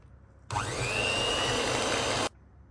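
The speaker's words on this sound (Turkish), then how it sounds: "Üzerine 1 su bardağı toz şeker ilave ediyorum ve köpük köpük olana dek çırpmaya başlıyorum" An electric mixer whisks eggs and sugar until foamy for a walnut tahini cake, a loud steady whirring that starts abruptly, runs close and constant for under two seconds, then cuts off cleanly.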